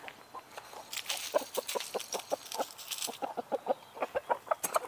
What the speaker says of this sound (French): Il faut bien les nourrir, ces petites poules.